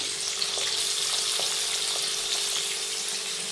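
Garlic and onion paste frying in a pan with oil, a steady hissing sizzle at moderate level with a few faint clicks of stirring, no voices.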